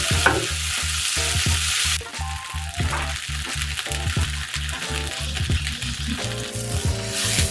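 Soyrizo browning in a hot pan on the stove, a steady loud sizzle with repeated scraping stirs of a utensil throughout, close and without talk.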